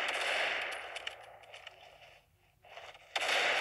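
Machine-gun fire in the mobile shooter Critical Ops: dense rattling bursts for over a second, a brief lull, then a loud burst of fire returns near the end.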